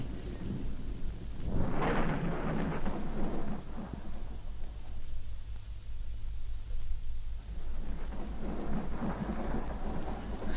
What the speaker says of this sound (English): This exasperating thunder at least has the advantage of covering the sound of our approach.